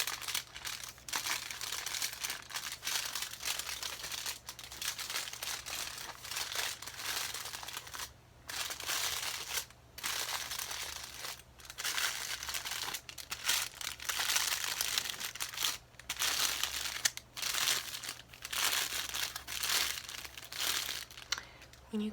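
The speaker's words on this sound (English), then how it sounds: "I'm going to crinkle this up again, because it wasn't as crinkled as before." Sheets of aluminum foil being crushed and crinkled for a dress, a continuous close, dense rustle with a few brief pauses, no talking.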